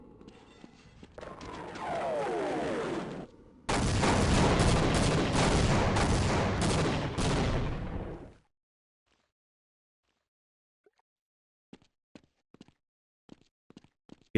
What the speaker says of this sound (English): Repeat, we are pulling out and commencing airstrikes.